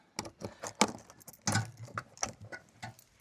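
Keys turn and click in the two front latches of an iKamper Skycamp 2.0 roof top tent, a run of sharp metallic clicks and rattles, close up and with no speech.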